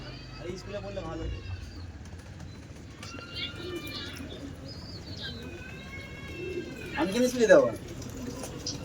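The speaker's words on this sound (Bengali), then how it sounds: "আর এখানে সব ম্যাডাসি উঠছে, সব বাচ্চা পায়রা উঠছে।" Pigeons coo repeatedly on a rooftop with an antenna nearby, young birds and black and white ones lifting off, with a louder burst of fluttering near the end; people talk throughout.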